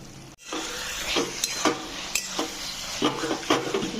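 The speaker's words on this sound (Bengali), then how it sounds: "এবার আমি ওই ভাজা মশলাটা দিয়ে দেব" Fried spice mix tipped into a hot pan of chhyachra, a Bengali fish-head and vegetable dish, then stirred: a loud steady sizzle broken by repeated scraping strokes of a spatula against the pan, with no talking.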